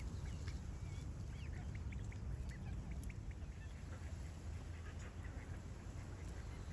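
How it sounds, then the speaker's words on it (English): Mallard ducks quacking by a fishing swim on a lake, with short scattered quacks and calls heard faintly in the middle distance over a steady wind rumble. "That whole family of mallards are diving on my spot."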